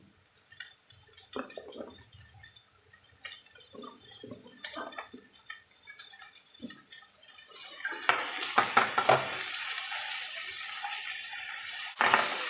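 Cabbage and carrots stir-fried in a pan for pasta pizza: scattered stirring scrapes and light sizzles at first, then a dense, steady frying hiss swells and holds for the final seconds.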